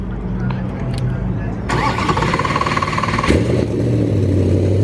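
A Superlite SLC kit car's LS3 V8 starts up close by, starter cranking then catching into a loud roar that settles into a deep, steady idle, with people talking over it.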